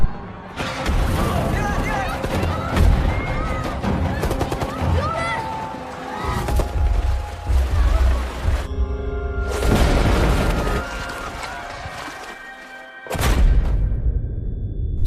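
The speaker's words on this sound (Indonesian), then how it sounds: "Bom pun berjatuhan dan baku tembak pun terjadi" Explosions and gunfire in a war film scene where bombs fall, loud and dense, with deep booms, crackling shots and a crowd of cries and commotion layered over dramatic film audio.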